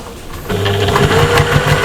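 A sewing machine stitches through multiple layers of a patchwork shopper bag, starting after a brief quiet moment and continuing as a close, loud, steady mechanical whir with rhythmic needle clatter.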